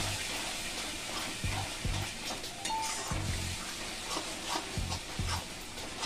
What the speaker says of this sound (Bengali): কাশ্মীরি লঙ্কার গুঁড়ো, এগুলো দিয়ে আমি আবার কষিয়ে নিচ্ছি